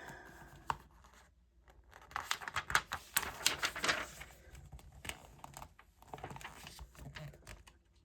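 Scissors cutting pictures out of a magazine, a close run of crisp paper snips and rustles that swell into a busy cluster midway and then settle into lighter snipping and handling.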